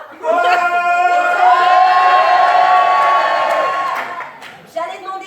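An audience at a comedy show breaks into loud sustained shouting and cheering, a big crowd roar with whoops that swells, holds for several seconds and then tails off before a short second outburst.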